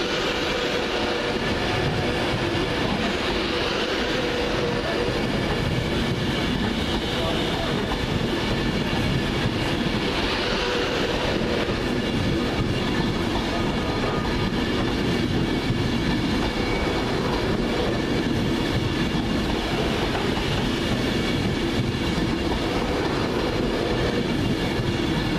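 An 11-coach Virgin Trains Pendolino class 390, running from London Euston to Liverpool Lime Street, rumbles steadily through Crewe station in the rain for a long stretch, loud and close, with no talking.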